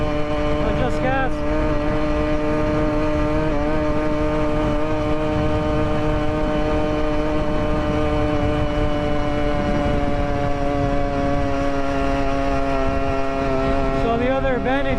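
A 63cc two-stroke gas engine on an ONYX RCR bicycle holds full throttle uphill with a steady, buzzing drone at a high pitch, and the pitch shifts slightly through the ride. Wind rumble runs underneath.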